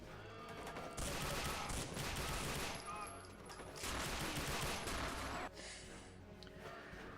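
Rapid gunfire in the shooter game Doom 2 comes as dense, loud bursts of repeated shots in several waves, with brief lulls between volleys.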